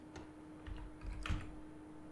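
Typing on a computer keyboard in a quiet room comes as a few soft, scattered key clicks, with one small burst of quicker taps, faint and close, with no voices.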